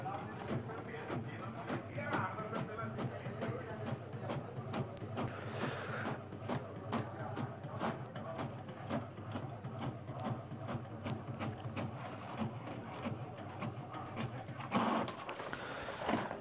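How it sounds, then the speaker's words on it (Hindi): An HP printer prints a test page, giving off a steady mechanical whirring and rapid rhythmic clicking for the whole stretch, with a louder feed noise near the end. "ये टेस्ट पेज प्रिंट हो गया"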